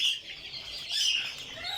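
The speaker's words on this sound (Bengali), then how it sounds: "বাকিগুলো কোল পাখির বাচ্চা" Small high-pitched chirps from young birds, thin and repeated, close by over a soft background hiss.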